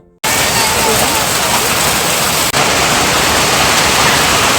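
Dense, loud hiss of pelting hail hammering down in Sikkim, constant and unbroken, with a brief dip midway.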